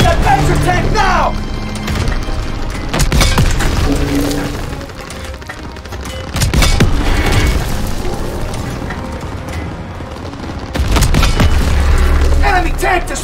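Heavy booms and crashing explosions in Call of Duty WWII combat as a German Panzer tank is destroyed, with continuous battle noise, rumble and shouted voices throughout.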